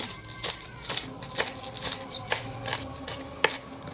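Sambar spinach with its stems being chopped small on a board, a run of regular knife strokes about twice per second, close and fairly clear over light background noise.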